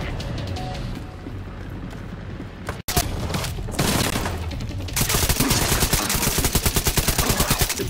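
Sustained automatic gunfire rattles through a firefight in The Division 2, building to a loud, steady rapid-fire stream of shots near the end with a brief dropout midway.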